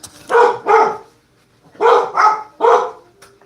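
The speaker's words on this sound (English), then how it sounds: "I don't know what the dogs are barking at." Dogs bark in two loud bursts, a quick pair followed by a pause and then a run of three sharp barks, close by with no talking.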